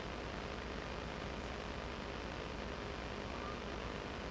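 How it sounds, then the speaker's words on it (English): A KLM Boeing 737-800 at Amsterdam Schiphol gives a steady, moderate engine roar that holds evenly throughout with no clear rise or fade, fairly distant and continuous. "This is a 737-800 from KLM going to Berlin"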